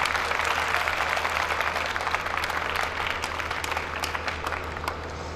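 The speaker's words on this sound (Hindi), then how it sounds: "अब इनके लिए मेल हजरा तालियां बजा दें, इन सब के लिए।" Audience at a university commerce department welcome party in Multan applauding the female M.Com students, steady close clapping from many hands that tapers slightly near the end, with no talk over it.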